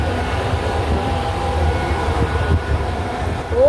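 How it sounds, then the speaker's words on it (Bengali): Bangaon–Ranaghat local train on an electric line, running at speed with a steady rumbling roar and rhythmic rattle heard from on board, plus a brief rising whine at the very end. "ও ট্রেন স্পিড হয়ে গেছে।"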